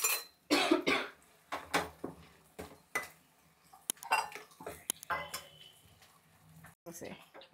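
A steel ladle stirs and scrapes inside a pot while cooking a festival dish at home, giving irregular clinks and knocks mixed with bursts of talk and a cough nearby.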